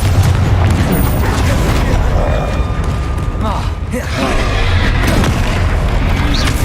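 Bombarda and Confringo spell explosions in the Hogwarts Legacy video game give repeated deep booms and crackling blasts over a dense, noisy battle, with a voice calling out over them throughout.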